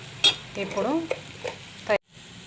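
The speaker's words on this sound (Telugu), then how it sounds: "ఇలా బ్రౌన్ కలర్ వచ్చేంత వరకు వేయించుకోవాలి రొయ్యలు." Prawns fry in a pan as they are stirred, a soft sizzle beneath a few scraping clinks and short tonal squeaks from the utensil, close and brief, ending in a sudden cut to near silence.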